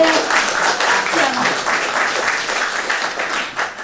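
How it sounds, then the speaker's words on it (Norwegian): Applause from a party convention audience fills the room, dense continuous clapping from many hands held at a steady loud level throughout, with no voices standing out. "klapp i vei"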